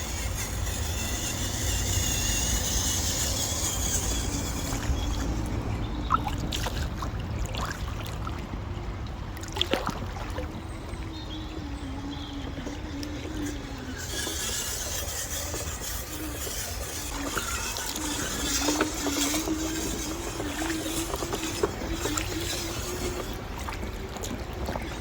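A cheap 1/18-scale Absima CR18 Pro mini rock crawler van drives through water to test its waterproofing. Its close electric motor whirs continuously over rushing, rubbing water noise, with no talking.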